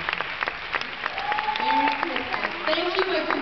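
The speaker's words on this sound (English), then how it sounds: "let's give a round of applause for Corina" A crowd claps steadily in continuous applause at an awards ceremony, with voices talking over it.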